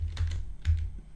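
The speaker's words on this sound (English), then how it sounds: "And you want to type this in" Quick keystrokes on a computer keyboard while a Kodi repository address is entered, a few distinct taps in short clusters over a low steady hum, close and clear with no talking.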